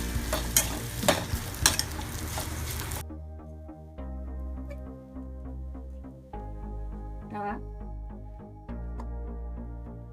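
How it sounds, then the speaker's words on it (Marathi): Roasted vermicelli and cooked peas are stirred in a pan over lowered gas heat. A few seconds of brisk, clattering scrapes give way to a quieter sizzle broken by occasional light stirs, close by and with no talking. "गॅस थोडा कमी करून मध्ये आपण शेवया भाजलेल्या व्यवस्थित हलवूया."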